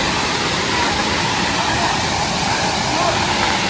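Broad, steady roar of water pouring down a waterfall near Sakleshpur, continuous and loud from close by with no breaks.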